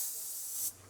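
Short pneumatic hiss of an air ride driver's seat adjusting inside a UC Health mobile stroke unit ambulance truck, a steady bright release of air that cuts off abruptly near the end.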